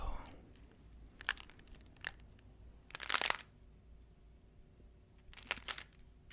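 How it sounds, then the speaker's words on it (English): Small pellets click and rattle inside an object being tapped, producing a few short, crisp bursts of rattling separated by quiet gaps, close and soft, without talk. "the little clicky sound of all the pellets was very satisfying"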